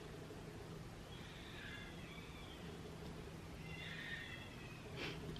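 A baby cries in another room, giving two faint, muffled wails over a low background hum, the second cry a little longer than the first.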